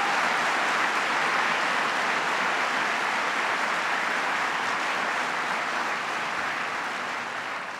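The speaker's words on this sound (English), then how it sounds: "Please give John Kerry a round of applause." Sustained applause from a large crowd at MIT greeting John Kerry during a presidential event, a broad, even roar of clapping that holds steady for several seconds before slowly tapering off.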